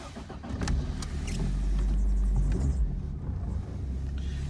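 A 1991 Toyota Corolla engine cranks and catches, then settles into a steady low idle rumble heard from inside the car, fairly quiet, with a few small clicks and no talking.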